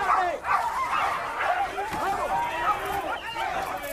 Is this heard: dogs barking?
yes